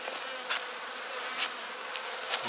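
Honey bees buzzing around an open beehive while sugar bricks are fed to the colony, a dense continuous hum close by with brief louder passes of single bees.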